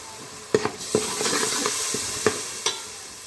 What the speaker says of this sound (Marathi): हे जे आपण चिंचेचा कोळ आपण भिजत टाकला होता ते पाणी आपण यात टाकत आहोत।